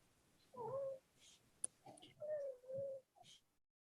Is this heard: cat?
yes